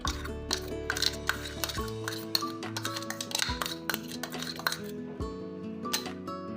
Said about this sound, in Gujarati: અને હવે આ પીસેલી દાળને આપણે આ રવા સાથે મિક્સ કરી દઈશું.